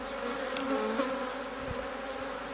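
Honeybees hum and buzz steadily around an opened hive during an inspection, a dense, close swarm drone with individual bees flitting past the microphone.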